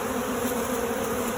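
Honeybees buzz steadily around a hive damaged by a bear, a dense, continuous close-up drone with no pauses and no talk.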